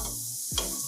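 Onion goes into hot oil in a pan for a paneer masala, with a brief scrape and clatter, then a steady hiss of frying under a humming background, close and moderately loud.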